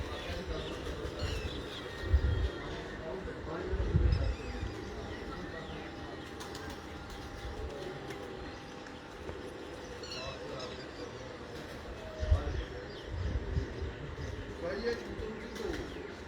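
Pigeons coo softly on a rooftop prepared just for them, low murmuring calls with occasional wing flutters, faint against outdoor background noise and some talk.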